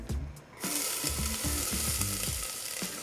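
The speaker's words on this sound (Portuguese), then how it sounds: "A panela já está quentinha, então vou adicionar um fio de azeite no fundo" Chopped onion hitting hot olive oil in a pan on a lowered heat, bursting into loud steady sizzling after a brief quieter moment, with scraping stirs of a utensil.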